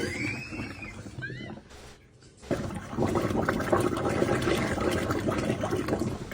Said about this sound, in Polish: Fajnie bulgocze woda sobie.